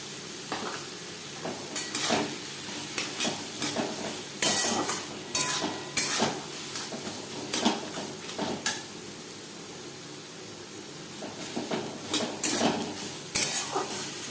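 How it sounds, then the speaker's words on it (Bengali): Taro leaves are stirred in a pan over a medium flame for a Bengali kochur shak, with a soft, steady sizzle under repeated scraping and clinking of a utensil against the pan, close but fairly quiet. "মিডিয়াম ফ্লেমে তিন চার মিনিট নাড়াচাড়া করে নেওয়ার পর"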